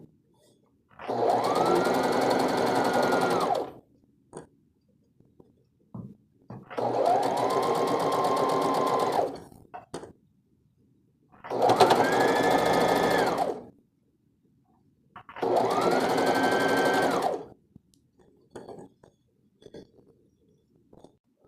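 Sewing machine stitching the bottom hem of a smocking frock, four steady whirring runs of a few seconds each with short quiet gaps between them, close and clear with no talking.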